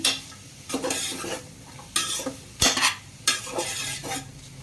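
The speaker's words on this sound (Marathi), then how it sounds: "आता हे मी परतून घेते. हे व्यवस्थित परतून घ्यायचं." A spice mixture for pea rice is stirred in a hot pan, bursts of sizzling and scraping arriving in uneven waves with metallic clinks from the spoon, loud and close.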